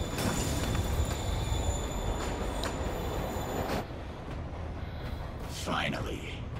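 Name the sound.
train moving, from the video game Marvel's Spider-Man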